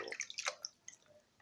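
Chopped chicken being rinsed in a bowl of water gives a few quick splashes and drips, close and fairly quiet, fading into light dripping.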